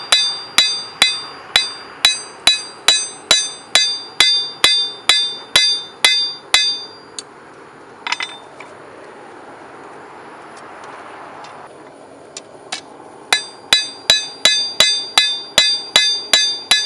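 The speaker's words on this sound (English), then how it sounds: "when you're hammering the bevels in, you have to watch out and not hit the metal with the corner of your hammer" Hammer blows forge the bevels of a steel skinning knife during rough forging. Sharp, ringing strikes land in a quick, steady rhythm, pause for several seconds of quieter workshop noise, then resume at the same brisk pace.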